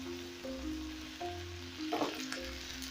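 Onions frying in a pan, a soft, steady sizzle that stays faint and even throughout, with a low hum and occasional small pops.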